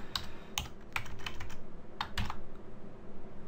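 Bursts of quick keystrokes on a computer keyboard as a file name is typed, clustered taps with short pauses between, close and clear with no talk.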